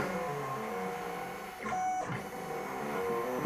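An SC2 vinyl plotter cutting on its own, giving a steady mechanical whir with a brief louder carriage sweep midway, close and alone.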